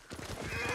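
A horse in the video game Ghost of Tsushima gives a short burst of rapid hoofbeats, quickly rising in loudness over less than a second.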